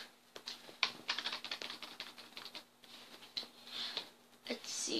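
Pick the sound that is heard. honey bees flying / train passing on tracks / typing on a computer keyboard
typing on a computer keyboard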